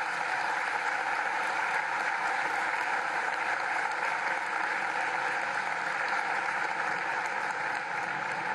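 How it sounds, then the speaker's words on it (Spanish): A large audience applauds the golden generation at a televised political event, with dense, sustained clapping that holds steady and loud throughout. "un aplauso a la generación de oro"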